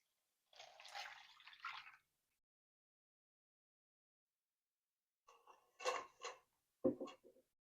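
Muddy water full of potting soil trickles and drips through a homemade backyard water filter, with short bursts of splashing and dripping separated by a long silence, faint and close.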